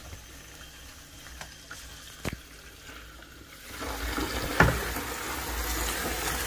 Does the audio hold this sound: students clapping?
no